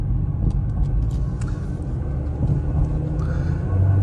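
A 2008 Chevrolet Cobalt LS Coupe accelerates on a test drive, its engine a steady low rumble with road noise heard from inside the cabin, continuous and moderately loud.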